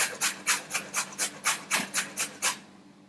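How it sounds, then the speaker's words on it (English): A carrot rubbed against a grater in about ten quick, even rasping strokes, close and clear with a steady back-and-forth rhythm and no talking. "I'm just going to grate it today. It doesn't take a minute to grate a carrot."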